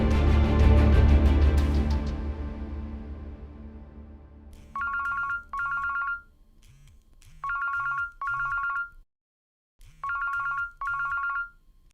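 A telephone ringtone rings in repeated electronic bursts, paired tones with short gaps between them, loud and close, after a fading chime at the start.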